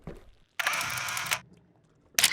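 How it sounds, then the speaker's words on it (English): Camera shutter snaps in the video game Sludge Life, a short low click followed by a bright, noisy burst lasting under a second, a quiet gap, then a second sharp burst at the end. "the snap of the shutter on the camera you've stolen to take pictures."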